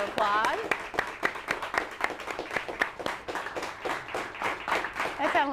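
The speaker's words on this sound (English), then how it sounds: "Give yourself a round of applause." Studio audience claps and applauds throughout a live broadcast, a dense run of clapping that swells at the start and end, with a voice speaking over the applause.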